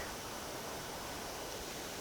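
Water flowing at a waterfall on a monsoon road trip between Chikkamagaluru and Sakleshpura, a dense, constant roar of rushing water filling the whole clip at steady loudness.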